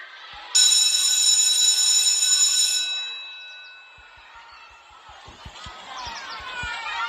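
An electric school bell rings loudly for a few seconds, a bright sustained buzzing tone, then fades into a noisy hallway with thumps and distant chatter.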